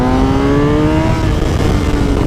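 Race car on the Vallelunga circuit, engine loud and close throughout, a high strained tone sweeping steadily as it revs under hard throttle with no voices.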